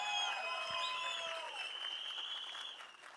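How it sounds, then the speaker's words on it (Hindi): Audience applause at a film trailer launch event, a steady wash of clapping from a crowd that holds through the clip and begins to thin toward the end, with a few whoops and voices mixed in. "डडली साहब के लिए एक बार जोरदार तालियां।"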